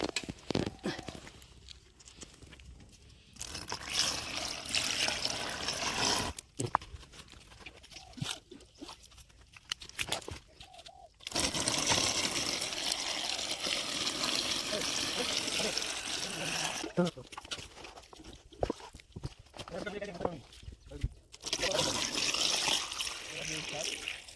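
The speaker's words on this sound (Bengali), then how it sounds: "এখন আমরা এই ফিতাটার মধ্যে কিছুটা জল ঢোকাবো" Water pours and trickles into a flat irrigation hose laid in an Indian village vegetable garden, a steady splashing flow broken by brief gaps, with people talking over it.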